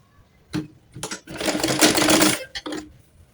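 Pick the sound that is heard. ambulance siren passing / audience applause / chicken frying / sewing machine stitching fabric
sewing machine stitching fabric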